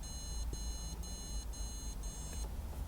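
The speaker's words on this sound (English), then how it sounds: "Hear that beeping? That is the Race Navigator." A Race Navigator racing data logger beeps steadily in regular pulses, high-pitched and fairly faint over a low rumbling background hum.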